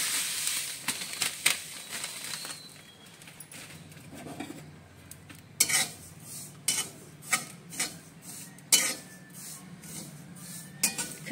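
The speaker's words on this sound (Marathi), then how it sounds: "आता मी खसखस भाजून घेते" Poppy seeds are dry-roasted in a pan at home, with a spatula scraping and rasping against the metal in repeated strokes, louder rhythmic scrapes toward the end.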